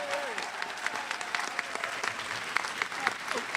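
A college convocation audience applauds the printing department in a hall, giving dense, sustained clapping with crowd noise. Voices murmur faintly underneath the clapping.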